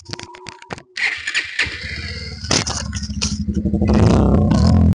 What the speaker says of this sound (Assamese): আহক ভিডিঅ'টো ইঞ্জিন চাউণ্ডটো আপোনালোকক শুনোৱাওঁ মই